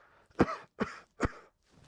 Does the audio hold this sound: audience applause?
no